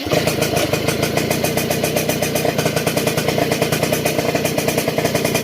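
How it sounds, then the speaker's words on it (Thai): Honda Nova S motorcycle with a hard-starting fault, its engine catching and settling into a steady, rapid clattering idle, close and continuous with no talking. "แล้วก็เดี๋ยวผมจะลองตาร์ทให้ดูนะครับ"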